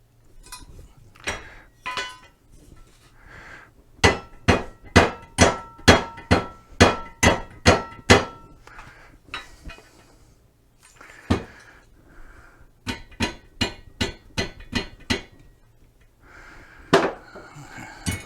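Sharp metallic mallet blows on the bent metal frame of a Pride Mobility Go Go Sport four-wheel mobility scooter ring out in quick runs of about a dozen strikes each, loud and close, with brief pauses and a little speech between bursts.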